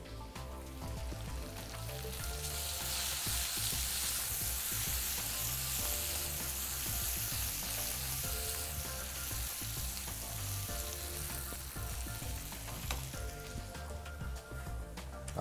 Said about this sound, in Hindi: साथ में डालेंगे बारीक कटी हुई प्याज।